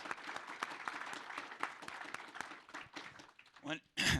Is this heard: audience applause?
yes